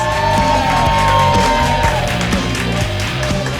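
A pub crowd at McFly's greets a comedian on a Tuesday night with loud whoops, yells and cheering over clapping, a dense continuous burst of noise close by.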